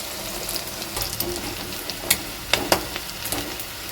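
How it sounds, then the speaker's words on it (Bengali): Eggs frying in oil in a pan on a gas flame set to medium-low, a soft steady sizzle close by with a few sharp pops and crackles toward the end, no talking. "এবারে আমি গ্যাসের ফ্লেমটা মিডিয়াম টু লোতে দিয়ে এগুলো খুব ভালো করে ভেজে নামিয়ে নেবো"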